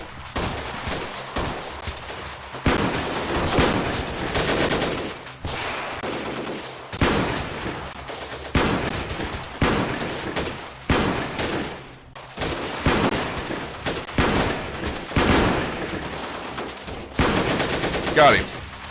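Sustained gunfire in the video game Freeman Guerrilla Warfare, dense bursts of automatic weapon fire and volleys of shots repeating in loud waves, with occasional speech mixed in.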